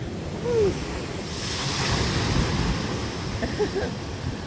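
Steady roar of surf with waves breaking nearby on a beach at Scotts Head, New South Wales, wind buffeting the microphone, and no voices.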